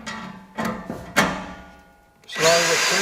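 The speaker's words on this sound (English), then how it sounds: "Now the thing is to put some pressure on and drill slowly." A power drill drives screws into corten steel for a raised garden bed, whirring in short bursts with clicks and knocks between them, ending in a longer, steady high-pitched spin.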